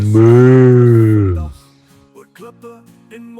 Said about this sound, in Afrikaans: By die windpomp is net beeste te sien.